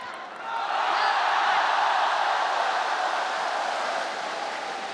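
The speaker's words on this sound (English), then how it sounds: "the roar from the crowd after the first point's like a roar at the end of the final" Arena crowd at the 2016 World Table Tennis Championships team final between China and Japan roars after the first point, a broad, sustained wall of noise swelling quickly and holding loud, with no clear voices standing out.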